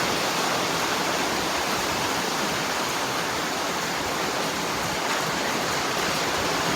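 Heavy rain pours down steadily over a flooded road in the countryside, a dense and unbroken roar of water that stays loud and even throughout with no voices.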